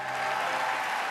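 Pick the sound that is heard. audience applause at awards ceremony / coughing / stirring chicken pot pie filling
audience applause at awards ceremony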